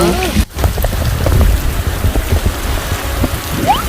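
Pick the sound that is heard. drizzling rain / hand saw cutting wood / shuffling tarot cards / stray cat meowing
drizzling rain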